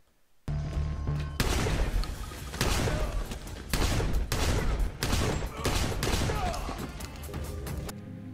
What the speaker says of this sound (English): Tactical, this is my favorite shotgun.